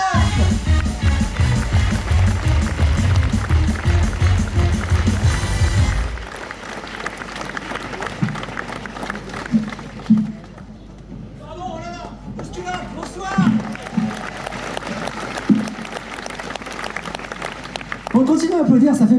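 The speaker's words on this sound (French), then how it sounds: "faites un tonnerre d'applaudissements" Applause from a comedy club audience as a stand-up comedian takes the stage, loud dense clapping for about six seconds that then cuts away to scattered sounds and speech.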